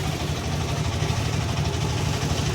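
Motor boat engine droning on a river to Bholaganj, Sylhet, a steady low throbbing hum with constant vibration, near and continuous, no voices.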